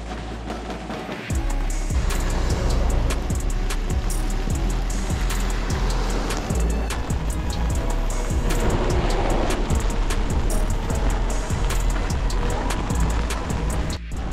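A Ford Ranger pickup truck drives past on a snowy winter road, a steady loud broadband road and engine roar that stays continuous and close throughout, with no voices.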